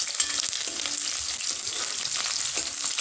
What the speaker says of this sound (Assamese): আৰু এইখিনি অকনমান মই ভাজি লম।